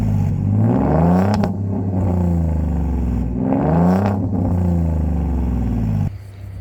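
A 2017 Ford Mustang 3.7 V6 revs twice in strong, rising sweeps, each settling back to a deep, steady idle before the engine cuts off near the end.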